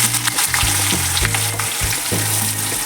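Urad dal, chana dal and chopped onion frying in hot oil, a loud steady sizzle with occasional stirring scrapes, close and continuous with no talking.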